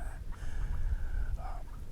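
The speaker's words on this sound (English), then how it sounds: "The turkeys already started talking a little bit" Wild turkeys calling at dawn on a November morning in a farm field, brief harmonic yelps and clucks rising faintly over a steady low background rumble, with no talking.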